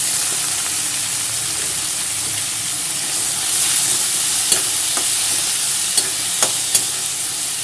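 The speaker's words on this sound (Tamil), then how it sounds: "சேர்த்து நல்லா வதக்கிக்கலாம்" Chopped tomatoes sautéing in oil over ginger and garlic for a pepper chutney, a loud continuous hissing sizzle with occasional spatula taps against the pan.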